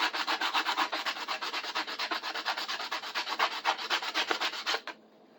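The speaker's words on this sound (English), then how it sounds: "Sandpaper takes a little longer." Sandpaper rubbed by hand across a tool being restored makes a steady, rhythmic rasping, about five quick back-and-forth strokes per second, close and alone, before stopping abruptly.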